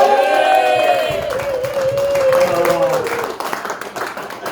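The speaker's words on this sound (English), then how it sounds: "massive round of applause to your wonderful MC" Clapping and crowd noise at a comedy show in Malvern greet the MC, mixed with a tonal whoop or sung voice and cheering, lively and close, fading slightly near the end.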